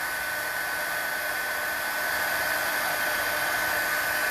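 A heat tool blows steadily to melt embossing powder on a stamped card, a continuous close, loud fan-and-air whoosh with no break.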